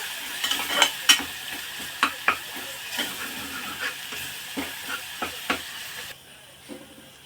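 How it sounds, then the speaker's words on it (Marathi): Ground masala paste stir-fried in a pan with a soft sizzle, while a spoon scrapes and taps in irregular strokes that fade near the end. "आता हे वाटण टाकलेलं आहे ते व्यवस्थित असं परतून घ्यायचं याचा कच्चेपणा दूर होईपर्यंत"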